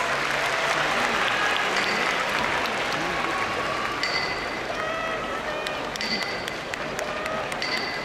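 Sustained applause fills a sumo tournament hall as two retired wrestlers turned stablemasters make their entrance at an exhibition bout, steady and dense throughout, with an announcer's voice faintly audible beneath the clapping.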